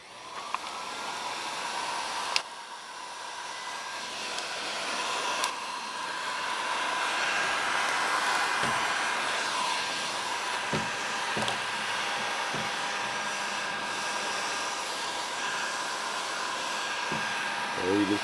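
A heat gun blowing hot air onto a plastic vacuum hose makes a steady, loud, close whir with a faint hiss, running on without pause, with a few light knocks and taps now and then.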